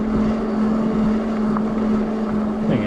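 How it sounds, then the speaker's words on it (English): A Surface604 Boar electric fat bike's 500-watt rear hub motor whines steadily under load while climbing a steep section, a constant tonal drone with wind rushing over the microphone. "that 500 watt rear hub motor just not showing a lot of sign of slowing down"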